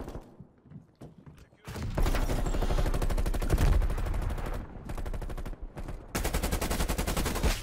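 An unsuppressed Krig 6 rifle fires in a video game, with loud, rapid automatic bursts in long strings broken by brief gaps.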